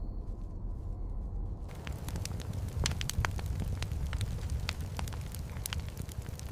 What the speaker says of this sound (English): The fire's crackle became the sound of safety